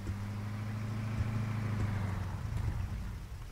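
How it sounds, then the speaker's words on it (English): A vehicle engine in an ARMA III game world hums steadily at a low pitch, a medium-sized motor idling or rolling nearby, holding fairly even before fading slightly at the end. "I can hear another vehicle."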